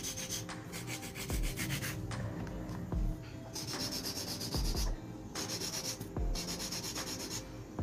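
Acrylic nails being filed with a nail file, close and loud: steady rhythmic rasping strokes in bursts with brief pauses, no talking.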